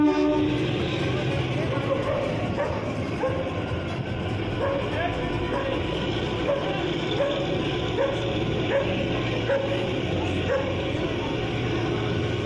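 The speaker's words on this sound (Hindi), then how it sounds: "हमारी गाड़ी शिमला रेलवे स्टेशन पर पहुंच चुकी है।" Kalka-Shimla narrow-gauge toy train pulling into Shimla railway station: a steady, loud rumble of rolling rail cars fills the scene throughout, with a dog barking somewhere nearby amid station noise.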